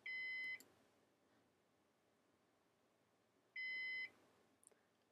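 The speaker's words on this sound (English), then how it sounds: "So now the beeping has stopped" A Synology DS918+ four-bay NAS unit emits two loud, sustained electronic beeps about three seconds apart during a hard drive swap, with quiet room noise and faint rustling between them.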